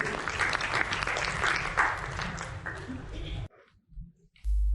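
Audience applause welcoming a doctor to the stage at a health launch event, a steady round of clapping for about three and a half seconds that then cuts off abruptly, leaving quiet room noise.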